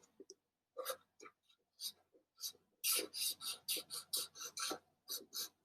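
Crayon strokes scratch across paper, short dry rasps that start sparse and hesitant, then quicken into a brisk run of close, evenly spaced scribbles.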